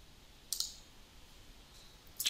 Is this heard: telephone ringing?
no